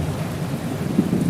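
Thunder rumbles over steady rain in a horror story soundscape, a continuous low roar with heavier surges toward the end, loud and without speech.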